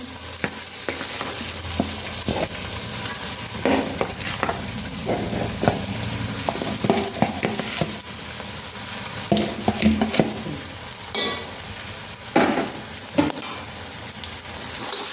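A steady sizzle of a potato mixture for vada pav frying in a pan, broken by repeated scraping strokes of a spoon stirring the mixture, close and continuous.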